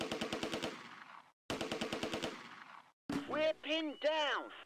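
Bursts of rapid machine-gun fire crackle in two long rattling volleys during a Close Combat video game battle along a riverbank, followed by shouting voices over continuing combat noise.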